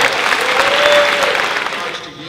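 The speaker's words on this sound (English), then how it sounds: "deserves a round of applause" Loud, dense applause from the audience at a 2017 National Achievers Society induction ceremony for high school scholars, filling the room and then fading gradually, with a faint voice briefly audible within it.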